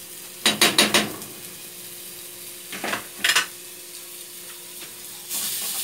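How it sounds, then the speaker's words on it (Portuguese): Oil frying in a pan for a pumpkin soup base, bursts of clatter and stirring over a steady low sizzle that rises toward the end, close and moderately loud with no talk. "Vou dar uma fritadinha e depois eu coloco a cebola."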